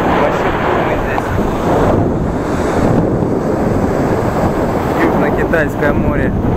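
Loud, rough South China Sea surf on Vietnam's southern coast with gusting wind battering the microphone, a steady roar throughout.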